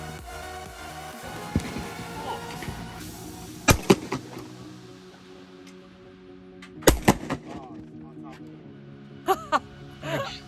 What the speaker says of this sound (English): out here skeet shooting